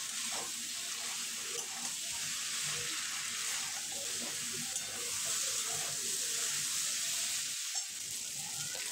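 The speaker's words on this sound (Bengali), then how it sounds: "মশলার সঙ্গে আলু আর চিংড়ি মাছ প্রায় 1 থেকে 2 মিনিট কষে নেব।" Potatoes and fried prawns cook in a mustard-poppy spice paste, sizzling in a continuous moderate hiss, with faint stirring movements underneath and no voices.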